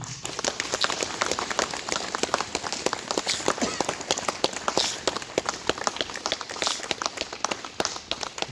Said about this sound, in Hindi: तालियां बजाएंगे।